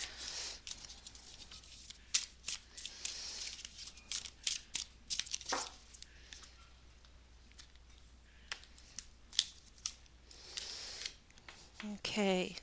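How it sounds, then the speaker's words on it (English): Tarot cards being shuffled by hand, riffled in a way that bends them, producing sharp irregular crackling riffs and flicks at close range, with quiet pauses and a few soft knocks in between. "I don't usually like to shuffle these cards this way because I don't like when they bend."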